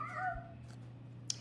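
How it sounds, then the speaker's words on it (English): A house cat lets out a single short meow, soft and fairly close, over a faint steady low hum in an otherwise quiet indoor room. "I apologize for my cat."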